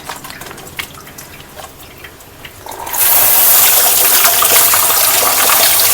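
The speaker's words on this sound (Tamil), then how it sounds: "நான் சோப்பு போட்டு நல்லா கழுவி காமிக்கிறேன்" Hands stained with hair dye are lathered with soap, with quiet handling sounds at first. A tap then opens into loud, steady running water that gushes continuously for the rest of the clip.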